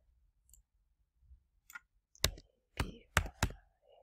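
A few keystrokes on a computer keyboard, sparse sharp clicks spaced over a couple of seconds in a quiet room, close and crisp, with no talking.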